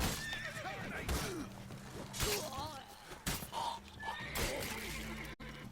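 Horse neighs and whinnies from The Witcher 3: Blood and Wine, set in Toussaint, mixed with hoof clip-clop and game effects, several calls spread across the stretch with voices talking throughout.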